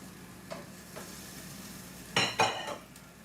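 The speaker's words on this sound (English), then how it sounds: "Oh, look at that sizzle." Salmon sizzles softly in a Cosori dual-zone air fryer basket with faint stirring noises, followed by a couple of sharper clattering knocks near the end as the food shifts in the metal basket.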